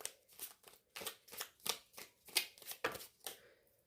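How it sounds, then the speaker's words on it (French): Tarot oracle cards are shuffled for a reading, about a dozen quick riffling swishes in a steady rhythm, close and fairly quiet, fading out at the end without any voice. "ce tirage avec des cartes"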